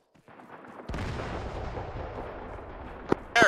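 A loud game explosion takes out an anti-aircraft gun amid steady rumbling artillery and gunfire in a military shooter, ending in a sharp crack and a final heavy burst.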